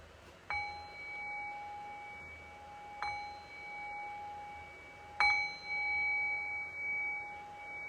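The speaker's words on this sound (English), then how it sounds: "I'll cue that by ringing the bell 3 times." A meditation bell struck three times at spaced intervals, each strike a clear ringing tone that lingers and fades softly before the next, alone in a quiet room.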